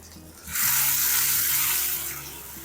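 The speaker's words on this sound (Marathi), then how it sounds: "हे वाटण आता छान असं खरपूस आपण भाजून घेणार आहोत" Onion and tomato paste, blended in a mixer, hits a hot pan for a capsicum masala and erupts into a loud, steady sizzle that swells after a brief quiet start and holds, easing slightly at the end.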